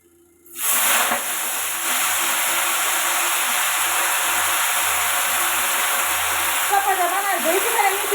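Sudden loud sizzle as vegetable greens, including dill leaves, hit garlic browned in hot oil, a steady hiss that carries on, with a voice speaking near the end.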